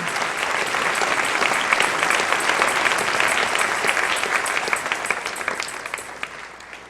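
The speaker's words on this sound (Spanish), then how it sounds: "Dale un aplauso al Rey." A church congregation applauding during a Spanish-language service, a steady wash of many hands clapping together that keeps going for several seconds before easing off.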